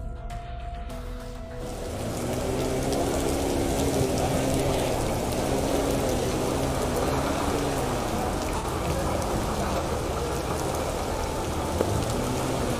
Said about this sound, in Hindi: बारिश का मौसम है, बारिश हो रही है पूरे ज़ोर से